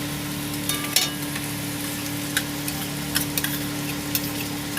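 Yogurt stirred into fried onions in oil for dahi prawn curry: a constant low sizzle with occasional soft scrapes and clicks of the spoon against the pan. No voices.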